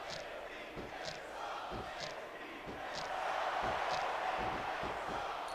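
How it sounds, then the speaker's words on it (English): Arena crowd in WWE SmackDown! vs. Raw 2006 roars steadily through the stretch, swelling louder toward the end, with rhythmic thumping impacts and commentator voices talking over it. "Look at him feeding off the energy from this capacity crowd."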